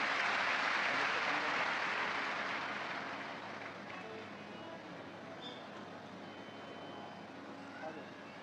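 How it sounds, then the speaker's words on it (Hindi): Audience at a live Shiv Mahapuran katha in Vaijapur, Maharashtra claps loudly together. The dense applause swells at first, then fades over a few seconds into crowd murmur. "जोरदार ताली।"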